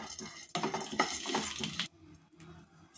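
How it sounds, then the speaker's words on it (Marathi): Dry puffed chickpeas being roasted in a pan, with a rattling, clinking burst of kernels shifting against the metal for about a second, then quieter scattered taps. "आता आपण फुटाणे भाजून घेऊया।"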